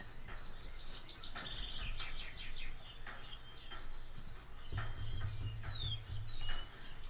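Background ambience of birds chirping and twittering, mixed with insect-like trills, runs continuously at low level under a steady low hum, with faint scattered tapping and no talking.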